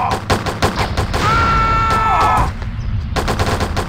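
Rapid video-game gunfire from the game Postal, fired with unlimited bullets, comes in loud, fast bursts, paused briefly by a ringing tone before the shooting resumes.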